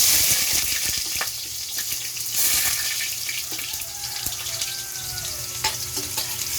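Ginger fries in a hot pan (kawali) for adobong balun-balunan, a loud continuous sizzle with scattered utensil clinks and faint scraping, heard up close and alone.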